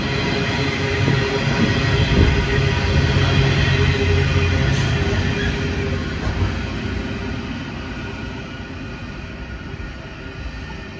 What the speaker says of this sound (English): this coal train is recorded for posterity